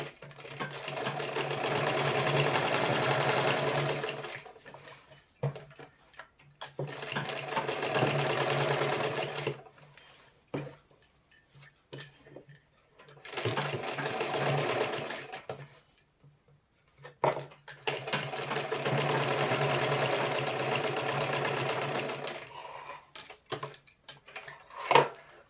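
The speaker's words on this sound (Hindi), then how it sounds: "थोड़ी दूर तक मैं सिलाई मारूंगी और दोनों साइड ही लगा लूँगी सिलाई।" A sewing machine stitches a salwar in four long, loud bursts of rapid whirring, separated by short pauses. It is heard close up with no talk over it.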